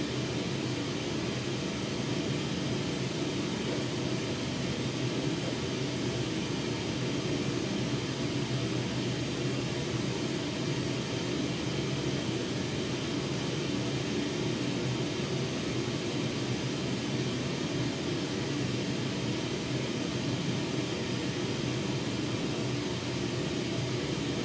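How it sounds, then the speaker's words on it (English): Pink noise played steadily through a PA system for a live show, a constant broadband hiss with no change, no pauses and no voices. "pink noise to the PA?"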